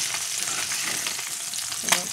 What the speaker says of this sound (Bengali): লাল লাল করে সুন্দর করে আমি মাছগুলো ভাজা করে নিয়েছি